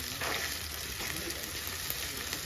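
Onion, garlic and curry leaves fry in oil over a tempering of urad dal, mustard seeds, fenugreek and cumin for a Jaffna vadai kuzhambu, giving a continuous, even crackling sizzle close by.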